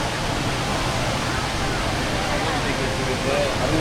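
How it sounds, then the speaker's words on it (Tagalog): Indoor waterfall at Singapore Changi Airport, a constant loud broadband rush of falling water filling the terminal, with faint crowd murmur mixed into the steady roar. "Waterfalls guys, here in SG Airport."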